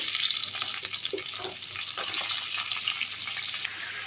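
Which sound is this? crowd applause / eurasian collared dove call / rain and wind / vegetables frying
vegetables frying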